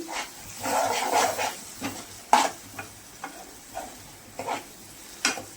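Egg fry being stirred in a kadai just after turmeric goes in: irregular scraping strokes of a spoon against the pan over a soft, faint sizzle.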